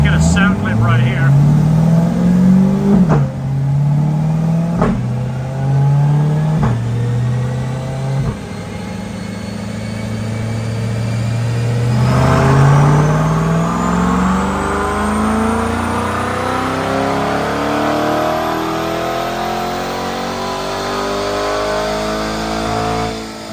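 A C8 Corvette fitted with a Corsa exhaust accelerates in 5th gear on a dyno, its engine note climbing steadily in pitch through a long loud pull with a few brief dips early on, close and continuous.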